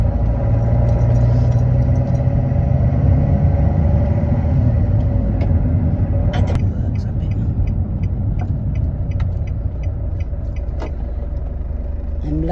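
Steady car engine drone with low road rumble inside a moving new car, continuous and fairly loud throughout, with a brief faint jingle partway.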